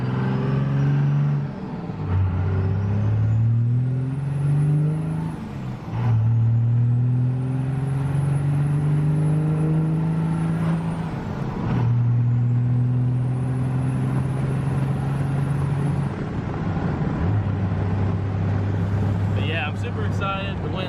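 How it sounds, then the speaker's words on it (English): A Cummins diesel truck accelerates hard through its gears, each shift marked by a rising engine note that drops and climbs again, loud and close with wind buffeting throughout. "Let's go ahead and run it through the gears for you guys."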